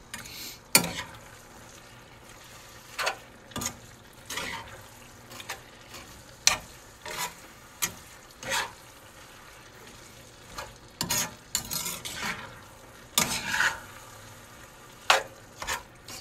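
Ground chuck browning in a pan on a stovetop for sloppy joes, a steady low sizzle broken by repeated scraping stirs and clacks of the utensil, close and fairly quiet.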